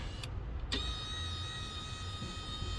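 Electric power seat motor from a 2018 RAM installed in a 2011 RAM 3500 cab, a steady faint whine running after two short clicks, close up and without voices.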